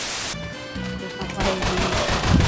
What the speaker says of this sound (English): I've got two guns shooting at me at once